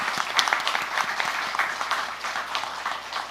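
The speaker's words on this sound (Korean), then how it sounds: "우리 부모님들께도 축복과 또 감사와 사랑의 박수로 또 격려하겠습니다." A congregation claps warmly for parents at a church confirmation ceremony, a dense and steady patter of many hands, moderately loud and fairly close.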